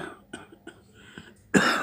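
The elderly Mughal emperor Shah Jahan coughs in a stage drama: a string of short, dry coughs, then a louder, harsher burst, close and otherwise quiet.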